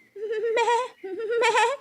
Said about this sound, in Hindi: स्वीटो बकरी अपने बच्चे के साथ जंगल में घास चर रही थी